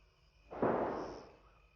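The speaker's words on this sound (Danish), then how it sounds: "I think it's a landmine." A single distant landmine explosion lands as a muffled boom that swells and fades over about a second, set against quiet outdoor air.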